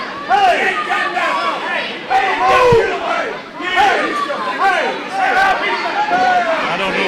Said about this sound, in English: He's trying to get the crowd to quiet down so he can do something.